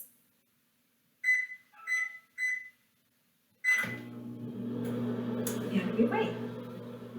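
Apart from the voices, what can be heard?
microwave oven running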